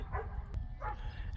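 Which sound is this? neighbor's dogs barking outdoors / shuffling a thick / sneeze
neighbor's dogs barking outdoors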